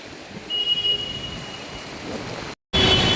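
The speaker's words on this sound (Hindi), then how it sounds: "बारिश है कि रुकने का नाम ही नहीं ले रही" Steady rain hisses continuously at close range, with a brief dropout near the end before the downpour resumes louder.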